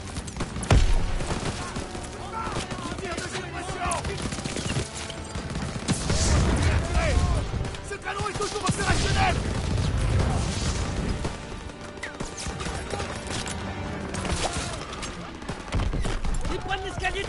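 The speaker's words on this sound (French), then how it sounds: "J'ai besoin de tir de couverture!" Gunfire in the war video game Call of Duty: World at War, dense and continuous battle noise with rapid bursts and heavy impacts layered throughout, French-speaking soldiers shouting under the din.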